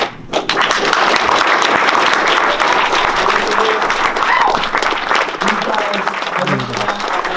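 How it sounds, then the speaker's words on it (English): A large crowd at a Movember celebration event breaks into loud, sustained applause, dense clapping filling the space continuously, with a voice briefly heard over it near the end. "can you guys stand up real quick and just get like a huge round of applause from everybody?"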